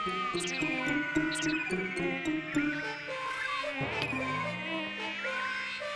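A mosquito whines close by the ear in an animated comedy, a thin, steady buzz that runs throughout alongside background music with no one talking.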